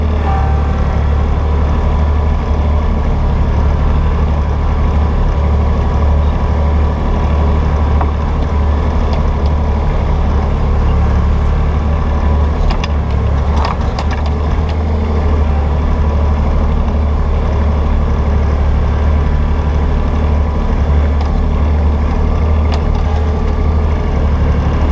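Kubota B2100 compact tractor engine running steadily while being driven, a continuous loud low rumble with a constant drone and no talking over it.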